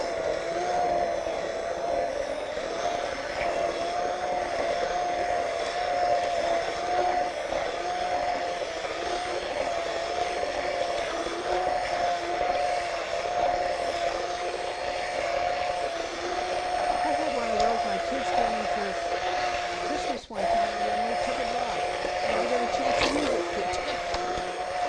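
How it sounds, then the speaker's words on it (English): An immersion blender whirs in a home kitchen, a steady motor drone with a constant pitch that runs nearly unbroken for about twenty-five seconds. A brief dip comes near the end, and faint voices sit under the motor. "my immersible blender."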